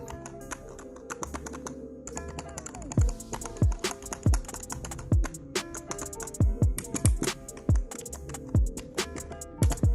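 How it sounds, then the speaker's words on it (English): Rapid typing on a Redgear Blaze semi-mechanical gaming keyboard: a close, steady run of crisp keystrokes with a few heavier thocks, over a soft background hum. "Now let's check that how the keyboard sounds."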